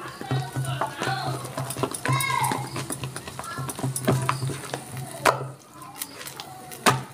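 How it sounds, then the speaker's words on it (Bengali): Urad dal batter with salt being beaten by hand in a bowl, giving a quick run of soft, rhythmic slaps and taps over a steady low hum in a home kitchen. "এবার নুনটা দিয়ে আমি ভালো করে একটু ফেটিয়ে নিচ্ছি।"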